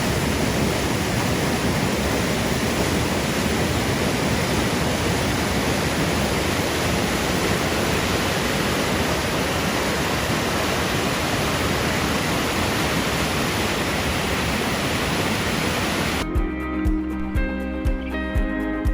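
Water pours steadily over a small dam set among hills near Perla in Kasaragod, a dense, unbroken rushing roar that holds for most of the stretch before cutting abruptly to a different sound near the end.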